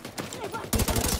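Submachine gun fire in a video game, a sudden loud rapid burst of shots close up, breaking in after a brief stretch of quieter game noise.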